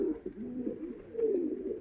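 Caged pigeons coo softly in low, rolling murmurs, one bird's throaty call rising and falling, close but quiet against faint background noise.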